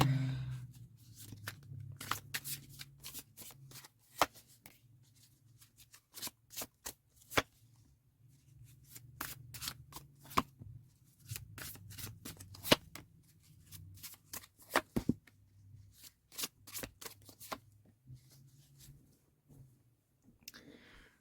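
Haunted romance oracle cards being shuffled by hand, a long run of quick papery riffles and sharp clicks in irregular bursts, close and quiet, with no speech.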